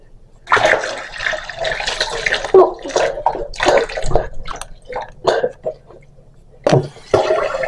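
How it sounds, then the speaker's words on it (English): Water is poured from a cup over people at bath time, several splashing gushes in irregular bursts separated by short pauses, close and fairly loud. "pour a cup of water on ourselves?"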